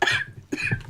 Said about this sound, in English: done coughing there